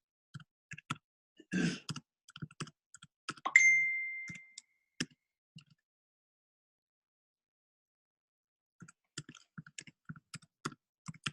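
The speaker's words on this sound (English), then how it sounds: "Typing it in." Quiet bursts of typing on a computer keyboard come in short clusters separated by pauses, with a brief ding and a soft sigh partway through.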